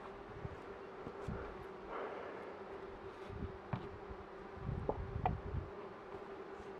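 Bees buzz around an open hive during a winter beekeeping inspection, a steady faint hum with a few louder passes close to the microphone and no one speaking.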